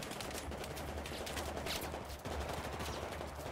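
Rapid automatic gunfire in the Xbox One shooter Battlefield 4, a dense, continuous rattle of shots held at a low, distant-sounding level with no voices over it.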